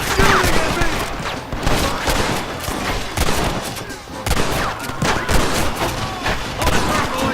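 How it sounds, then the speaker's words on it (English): Gunfire in a shootout in the Western video game Red Dead Redemption, dense overlapping loud shots and ricochets continuing without pause, with voices shouting faintly underneath. "Stop shooting at me!"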